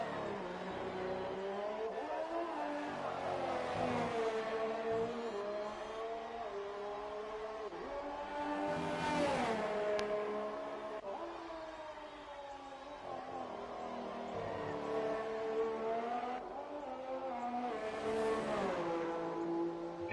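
Race car engine in a sim racing game at the Australian GP on an out lap, revving and shifting continuously with rising and falling pitch as the car accelerates through gears, loud and close for the whole stretch.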